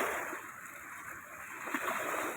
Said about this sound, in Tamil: அவ்வளோ தண்ணி வருது தண்ணி அலம்புது கரையில் வந்து அடிக்குது